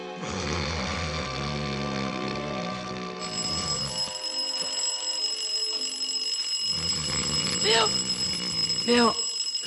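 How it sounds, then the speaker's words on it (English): An alarm clock rings in a vintage radio drama starring a comedian, a continuous metallic bell jangle heard up close; a voice speaks over the ringing and a couple of short sighs or yawns break through near the end. "Turn off the alarm."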